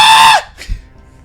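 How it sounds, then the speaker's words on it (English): A window in the Slay the Princess video game lets out a loud, high, wavering scream that cuts off abruptly after a moment, followed by a short fainter echo-like cry and then near silence. "It looks like the window is screaming."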